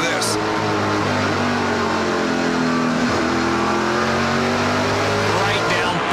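A NASCAR Pinty's Series stock car at the 2018 Bumper to Bumper 300 roars on throttle through a corner, a loud sustained engine drone with a slight pitch rise, close and continuous.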